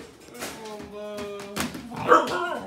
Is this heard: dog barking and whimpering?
yes